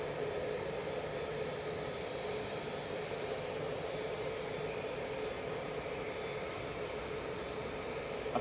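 A TUI jet airliner takes off at Manchester Airport, a steady, distant broadband engine roar that holds evenly throughout with no voices.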